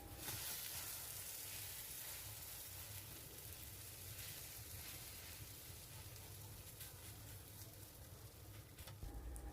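Three eggs frying together in a pan for sandwiches give a steady, close sizzle that runs without a break from start to end, with no talk over it.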